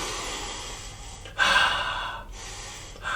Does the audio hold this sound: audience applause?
no